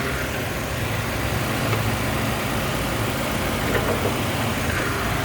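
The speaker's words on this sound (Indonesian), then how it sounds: "Nah untuk bagian mesinnya suaranya halus banget teman-teman." A 2007 Nissan X-Trail T30 with a 2.0 engine and manual gearbox idles smoothly, a steady, even hum with a soft low rumble that holds constant throughout, with no voices.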